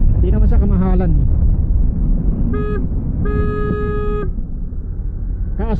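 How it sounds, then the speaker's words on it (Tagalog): Vehicle horn on the Alaminos bypass road: a short honk, then a longer sustained blast, both loud over steady traffic rumble, with a person talking just before and a bit of another honk at the end. "Sobra-sobra ka naman ng busina"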